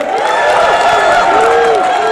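A packed crowd at a lumberjack show in Ketchikan, Alaska, cheers and whoops loudly and continuously, many voices rising and falling together at close range.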